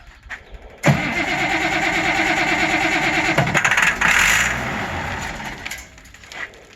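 A 190 XT engine cranks hard and rhythmically with ether assist, then catches and sputters unevenly, loud and close, with no voices.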